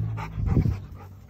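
A dog panting close by, quick rhythmic breaths rising and falling over about a second, fairly clear and alone.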